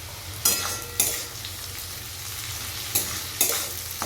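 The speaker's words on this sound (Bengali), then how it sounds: "দিয়ে আরও 2 মিনিট মতো কিন্তু এটা ভেজে নেব।" Vegetables and fried cauliflower stir-fried for fried rice sizzle steadily in a pan, with a few sharp scraping bursts as they are tossed, close and fairly loud, no talking.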